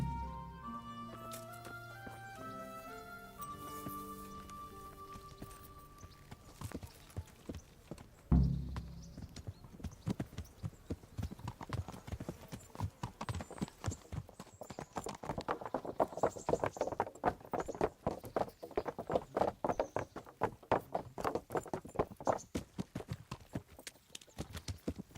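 Horse hooves clip-clopping in Kingdom Come: Deliverance, a quiet musical sting giving way to a steady, rhythmic trot of hoofbeats that gradually grows denser and faster.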